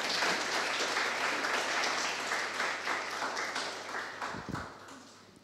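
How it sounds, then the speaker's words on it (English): A lecture audience at an Earth observation school claps after the talk, steady scattered applause close by that gradually thins out toward the end. "you can clap also"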